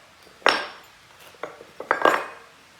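A hot copper bar, cast from melted copper wire, is flipped out of its mold with a sharp metallic clank, followed by several smaller knocks and a final cluster of ringing clatters, close and loud.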